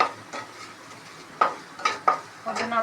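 A spoon stirs turmeric and chili powder into fried ginger in a pan, with the heat off, for a tamarind ginger dish. Four or five distinct scraping strokes follow one another close up over a faint, soft sizzle.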